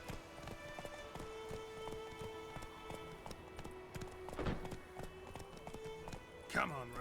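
Hooves clip-clop in a quick, steady galloping rhythm as the horse Roach runs in The Witcher 3 video game, a moderately loud beat over game sounds, with a brief whinny near the end.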